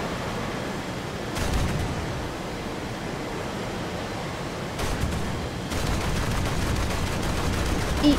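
Aircraft cannon bursts from War Thunder gameplay, a dense noisy clatter of rapid gunfire heard in a few short bursts and a longer sustained stretch toward the end over a constant engine drone.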